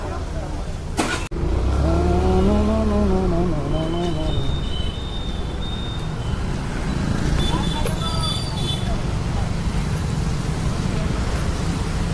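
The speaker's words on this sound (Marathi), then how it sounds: "ट्रॅफिक चालू झालं आहे ऑलरेडी" Road traffic in Solapur rumbles throughout, with a vehicle engine revving nearby and a brief horn-like tone, while people talk over the noise.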